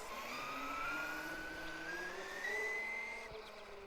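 Brushless Traxxas Summit RC truck on 6S making a speed pass, a steady high electric motor whine rising in pitch as it accelerates and holds, fairly loud and continuous outdoors, with no talking.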